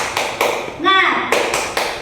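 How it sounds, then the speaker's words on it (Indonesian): A classroom of pupils claps a rhythmic spirit chant, sharp unison claps in a steady pattern, with a voice calling out between the beats. "kita akan tepuk semangat."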